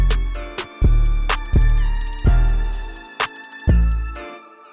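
Hip-hop drum beat with no EQ applied, heavy booming kicks landing in a steady pattern under sharp hi-hats and snappy snare hits, loud and close with long low-end tails.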